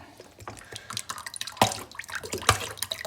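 Liquid is poured into a dish while preparing Lake Garda-style trout en saor, a close splashing trickle with clinks and small drips.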